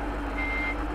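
A bus sounds its reversing alarm in IDBS Bus Simulator, a steady electronic beep tone over a low engine drone, clear and fairly loud for about a second.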